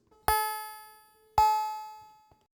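Two bright synthetic tones are processed through a flanger with very high resonance on a Boss RC505-MK2 looper. Each sharp hit rings out and fades over about a second, alone with no voices.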